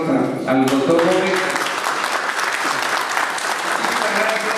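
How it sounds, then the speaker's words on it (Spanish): An audience applauding at a Spanish-language family law lecture, dense sustained clapping from a crowd right after a brief voice at the start. "Quisiera terminar dando fuertes aplausos al doctor Gómez."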